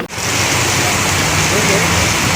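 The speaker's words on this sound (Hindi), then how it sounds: "शहर में अचानक बारिश होने की वजह से तेज हवाओं और बारिश का ओल्ड सिटी में देखिए एक मंजर।" Heavy rain with strong wind lashing the Old City, a dense, steady hiss and rush that holds loud and constant throughout.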